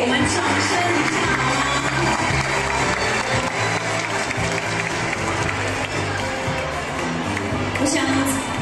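A crowd applauds at a Mother's Day ceremony in Zhushan, Nantou, Taiwan, honouring a 102-year-old woman, with sustained dense clapping and some cheering, plus a voice talking over the sound.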